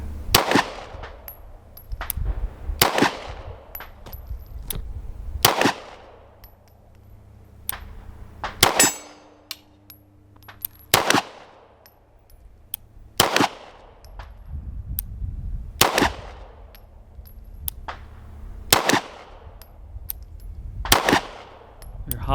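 Single handgun shots ring out one at a time at a target 30 yards away, about ten sharp, loud reports spaced a couple of seconds apart, each followed by a short ringing decay, with faint background noise between.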